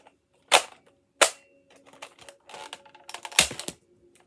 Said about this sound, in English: I hope you guys enjoyed watching me reload and shoot this Nerf gun.